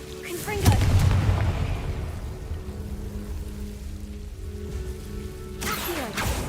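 A Confringo fire spell in Hogwarts Legacy bursts with a sharp crack and a deep boom, followed by crackling fiery hiss that tails off, then a second sharp impact near the end, with voices underneath.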